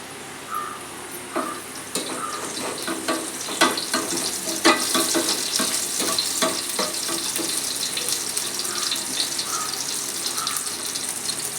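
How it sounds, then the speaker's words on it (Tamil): Fennel seeds and garlic fry in hot oil for paneer butter masala, a steady broadband sizzle with crackling pops and a few clinks of a stirring spoon, no voices over it. "ஆயில் சூடானே கொஞ்சமாக சோம்பு பூண்டும் சேர்த்துக்கலாம்"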